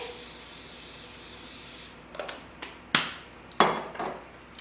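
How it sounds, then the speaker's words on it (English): A steady hissing of cooking spray onto cubed vegetables runs for a couple of seconds, then stops, followed by several sharp taps and clatters. "You want to spray them with cooking spray."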